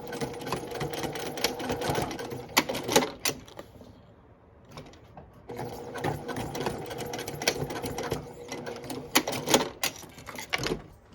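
Sewing machine stitching a tiny square with an X to attach a key fob lanyard, whirring in short runs with brief pauses and a quieter gap midway, close and steady with no talking.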